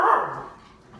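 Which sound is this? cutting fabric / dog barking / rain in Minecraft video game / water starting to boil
dog barking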